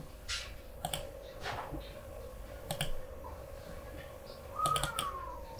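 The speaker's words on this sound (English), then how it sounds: "Click on save and click on OK." Computer mouse clicks while a file is saved in Photoshop: several sharp, light clicks scattered over a few seconds against a faint steady hum.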